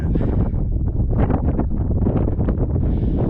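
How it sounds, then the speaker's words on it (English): Steady wind buffeting a microphone outdoors at the White Bluffs sand dunes in Washington's Scablands, a loud, continuous low rumble with gusty fluctuations throughout and no talking. "I wish it wasn't so windy."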